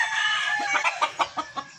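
An Escolin gamefowl rooster clucks several times in short rhythmic bursts, close by, over a faint background hiss.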